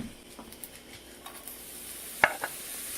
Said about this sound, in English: So, I'm going to use this pan to fry my onions.